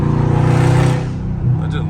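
A loud Dodge Scat Pack rumbles in traffic, its deep exhaust droning close and steady, dipping briefly before swelling again.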